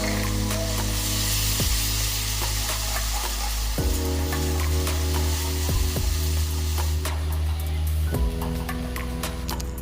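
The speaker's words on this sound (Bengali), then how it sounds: "ব্রাউন কালার হয়ে গেলে করে রাখা পেস্টটি ভালোভাবে দিয়ে নেড়ে চেড়ে নেব।" Spice paste fries in a pan with bhola fish, a steady close sizzle broken by repeated scraping stirs of a utensil against the pan.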